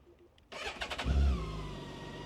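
A BMW K1600GTL touring motorcycle with about 35,000 km on it cranks briefly and fires up, then settles into a loud, steady idle close by.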